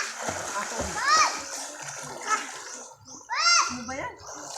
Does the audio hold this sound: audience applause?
no